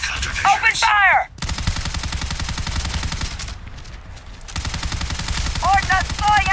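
Gunfire in the space game Starfield: dense rapid bursts of automatic shots crackling loud and close, pausing briefly before resuming, with shouted voices and sci-fi chirps mixed in.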